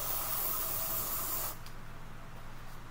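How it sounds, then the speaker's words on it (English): Aerosol deodorant sprayed onto the armpits, one close, loud continuous hiss lasting about a second and a half, then cutting off to quiet room tone with no talk. "And spray it on your pits."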